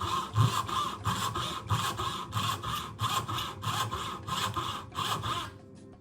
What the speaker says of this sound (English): Here I have a dovetail marked out,